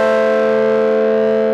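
Electric piano chords from a Logic EVP88 run through a Mault fuzz effect, a single brief, loud, buzzing distorted sustain held steady, with no voices.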